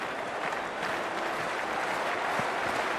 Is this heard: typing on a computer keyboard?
no